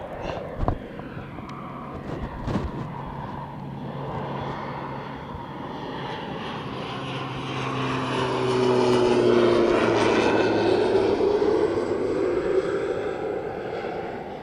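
A propeller airplane passes overhead near a flight school, its engine drone building to a loud, sustained peak midway and lingering as it flies past, with no talk over it.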